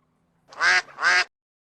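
A duck gives two loud, close quacks, one right after the other, with silence before and after and no talking.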